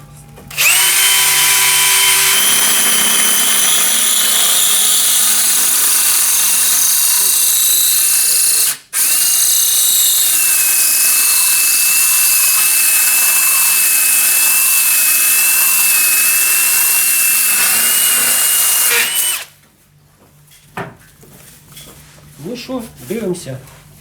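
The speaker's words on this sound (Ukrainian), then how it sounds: "Ну що, починаємо сверлити." A Steelring diamond core bit drilling through porcelain stoneware tile, a loud sustained high whine with a steady grinding tone, one short break midway, then it stops and faint handling noises follow.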